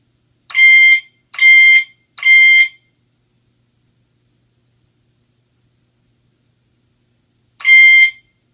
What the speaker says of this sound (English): So that was its first round of sounding the one pulse for zone one.